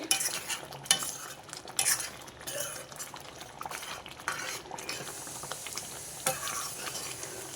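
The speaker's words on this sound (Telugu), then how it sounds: "ఒకసారి కర్రీ చూద్దామండి చక్కగా ఉడుకుతుంది" Drumstick masala curry simmers in a covered pot, giving a soft, steady bubbling and faint sizzle with occasional clinks of a utensil, close but fairly quiet.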